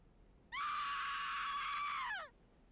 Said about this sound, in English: A scream bellows out from the cavern of the cave